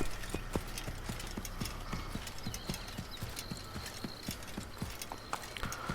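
Horse hooves clip-clop at a steady walking rhythm in the Assassin's Creed video game, close and clear, with faint background ambience and no talking.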